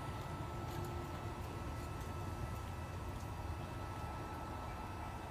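A BioLite camping stove with its small fan running over a smoky fire, heard as a steady, broad whirring hiss that holds even and unbroken throughout, close and fairly quiet.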